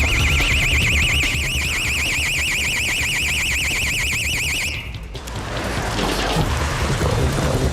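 A burglar alarm shrieks loudly during a police raid, a rapidly warbling electronic siren that runs steadily for about five seconds and then cuts out, leaving loud rumbling commotion and clatter behind it.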